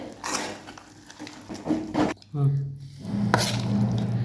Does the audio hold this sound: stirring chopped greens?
yes